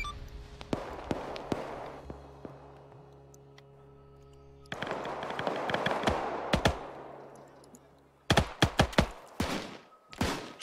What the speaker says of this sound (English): We have had an explosion.